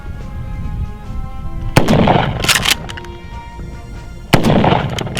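A Mossberg Shockwave shotgun fires at a can outdoors, with three sharp, loud blasts spaced irregularly and each followed by a brief ringing tail. There is no talking.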